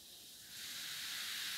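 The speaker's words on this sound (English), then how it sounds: "See how it creates a fizz?" Baking soda mixed into vinegar fizzes with a soft, steady hiss that swells after a moment and then holds at an even, close level.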